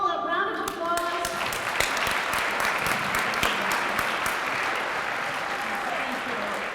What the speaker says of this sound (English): why don't you give them all a round of applause?